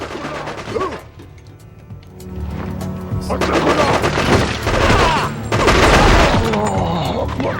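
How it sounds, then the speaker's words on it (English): Enemy gunfire in the video game Cold Winter, with bursts of close shots and impacts building up after a quieter start and continuing loudly to the end, with occasional crashes mixed in. "the second we walk out here, they immediately open fire"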